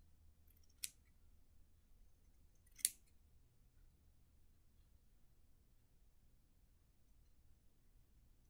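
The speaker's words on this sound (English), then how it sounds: "and now you just have to cut them out" Scissors cutting out paper pieces for a gnome craft make two isolated crisp snips a couple of seconds apart, close and clear against a quiet room.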